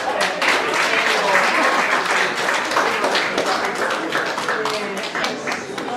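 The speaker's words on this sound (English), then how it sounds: "Round of applause for Susan, please." Audience applause after a cha-cha performance at a dance award presentation, a dense, steady crowd clapping that fills the room and carries on throughout without easing.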